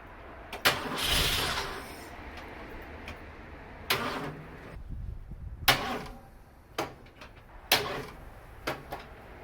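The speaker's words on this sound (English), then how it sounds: "I've never had this much trouble getting an engine to crank over" Several short bursts of a 1962 Mercury Comet engine cranking without catching, each a few seconds apart with quieter gaps and mechanical clicks between.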